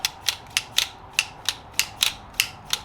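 A 1989 Honda NX250 clutch lever being worked by hand gives a close, sharp run of about eleven evenly spaced clicks and metallic snaps, with nobody talking.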